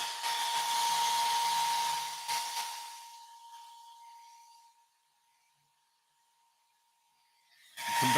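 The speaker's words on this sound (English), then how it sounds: "I take my fabulous hairdryer on cold" A hairdryer blows on its cold setting with a loud, steady airy roar and a thin whine, then cuts out. After a few seconds of near silence it starts blowing again.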